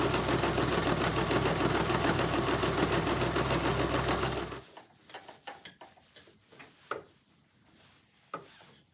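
A sewing machine stitches fabric for a stuffable camp pillow, running loud and steady with a fast, even stitch rhythm for about four and a half seconds, then stopping and leaving a few quiet handling clicks and bumps.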